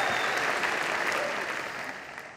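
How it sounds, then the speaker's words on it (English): Audience applause at a graduation ceremony, a steady wash of many hands clapping that fills the hall and slowly fades toward the end. "And can we give Miles Ingram another round of applause, everybody?"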